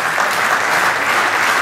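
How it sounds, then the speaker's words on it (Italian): A crowd at a Cus Pro Patria Milano athletics club gathering gives loud, sustained applause in tribute to the late athlete Fulvio Costa, a thick, continuous roar of clapping with no speech. "un grande applauso per un atleta che non c'è più"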